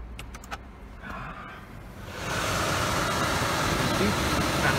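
With the ignition switched on after a junction box repair, a BMW cooling fan kicks in: a few light clicks come first, then a loud, steady rushing blow takes over and holds.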